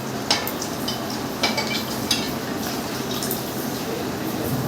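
Dahi vada being mixed in a bowl at home, a steady soft wet churning with a few sharper scraping strokes near the start, close and moderately loud, with no talking.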